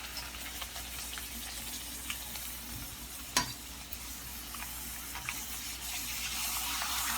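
Puchka shells fry in hot oil over high-medium heat, a steady bubbling sizzle with scattered small pops and one sharp clack partway through, close and continuous with no talking.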